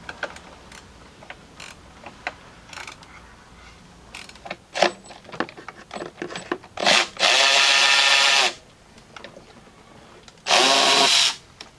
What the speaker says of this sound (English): Probably best to get a 10mm ratchet wrench to remove these guys